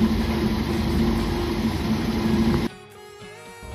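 A 1993 Toyota Kijang Super G engine idles with a steady, dense rumble and hum, then the sound abruptly drops to a quieter, thinner tone near the end.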